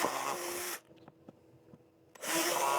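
A power drill bores a hole in an Acerbis supermoto fender on a 2023 Kawasaki KLR 650, with two loud bursts of whirring at the start and end and quiet clicks and handling noises between them.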